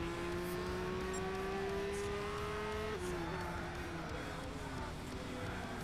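Engine of a race car in Gran Turismo 6 on a city trial course holds a steady high whine that slides down in pitch partway through, loud and close over constant road and tire noise.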